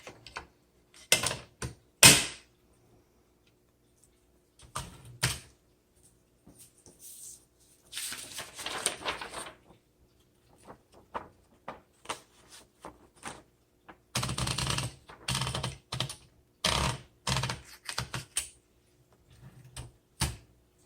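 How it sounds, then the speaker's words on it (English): Keys clacking on a 1959 Cole Steel vintage typewriter, struck in irregular bursts of quick taps separated by pauses, close and fairly quiet, with occasional denser runs of rapid strokes. "Let's do a typing demo on this."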